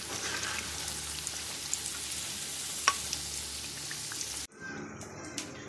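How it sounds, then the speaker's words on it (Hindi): Pakoras frying in hot oil give a steady, close crackling sizzle that runs for about four and a half seconds. Then it cuts off abruptly and leaves a quieter crackle with a few faint clinks. "अब हम इसको निकाल लेंगे और बाकी के फ्राई कर लेंगे।"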